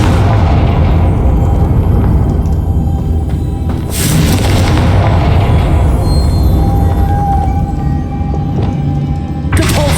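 A Confringo spell explosion in Hogwarts Legacy sets off a loud, deep boom that rumbles on through the whole stretch. Sharp bursts crack over the roar, one midway and another near the end.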